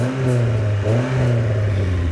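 A Rover 200 BRM engine with a non-resonated centre pipe and Yan Speed back box revs steadily, its exhaust note rising and dipping with a brief lift near the middle, close and loud with no talk.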